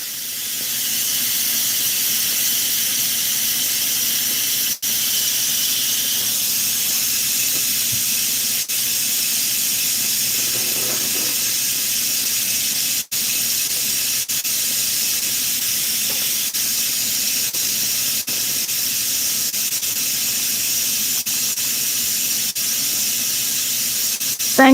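An Instant Pot vents steam in a steady, loud, unbroken hiss that holds for the whole stretch, with a few faint clicks and no voices.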